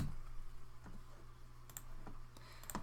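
Sparse computer mouse clicks and a few keyboard taps sound up close and quiet over a low steady hum, with no one talking.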